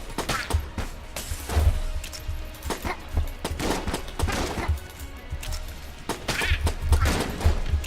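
Gunfire in the video game Enter the Gungeon: repeated sharp bursts of shots at an irregular pace, mixed with impacts and crashes over several seconds of hectic game action.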